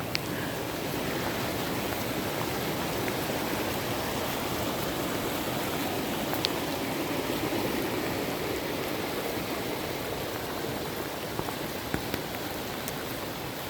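Floodwater rushes through a seasonal creek and across a flooded pasture in Douglas County, Oregon, a broad, continuous roar and hiss of flowing water, close and steady throughout, with occasional small splashes and no talking.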